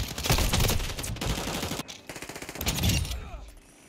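Sustained automatic gunfire in Call of Duty Modern Warfare II, dense rapid bursts that come in waves, loud and close, trailing off into sparser shots at the end.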